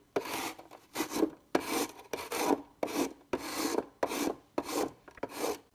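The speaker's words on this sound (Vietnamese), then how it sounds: "Rồi giờ mình bào cà rốt." Carrots are worked over a hand grater in close, rhythmic rasping strokes, about eight of them, each a gritty scrape followed by a short pause, with no talking.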